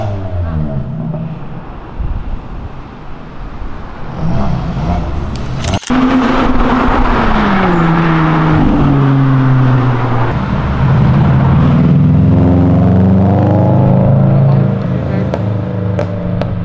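A car engine roaring on an avenue, a loud rising and falling engine note with revving sweeps, a sharp pop near the middle, and continuous road noise carrying through the whole stretch.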